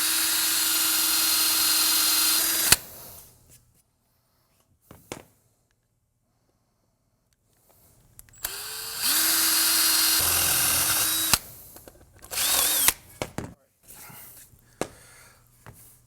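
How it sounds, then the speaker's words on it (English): A power drill with a 0.210-inch bit bores into a C5/C6 Corvette front lower control arm, whining in two long bursts and a few short ones separated by quiet pauses, close and fairly loud. "So let's go ahead and drill this."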